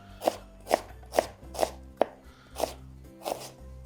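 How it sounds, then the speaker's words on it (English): A knife slices an onion wafer thin on a board in seven crisp, evenly spaced chops at close range, with nobody speaking. "Once I'm halfway down, I'm just flipping it over so I can easily slice again."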